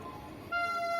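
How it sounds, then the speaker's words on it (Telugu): A Vande Bharat train passes at Visakhapatnam railway station in the early morning; a low rumble is followed halfway through by a sudden, loud, sustained horn blast that holds to the end. "ఎదురుగా మనకు వందే భారత్ ట్రైన్ వెళ్తుంది."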